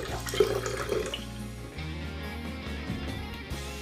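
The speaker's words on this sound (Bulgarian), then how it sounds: "прибавете същото количество чисто филтрирана студена вода" Filtered cold water pours steadily into sweetened herbal tea, a continuous splashing stream with no talking, over a low, steady tonal hum.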